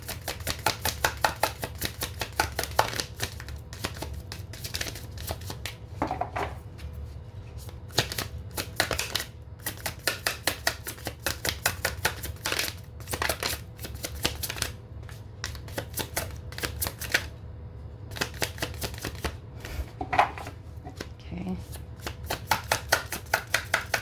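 A deck of tarot cards is shuffled by hand, giving quick, dry riffling clicks and soft slaps that come in short bursts with brief pauses, close and fairly quiet, with no talking.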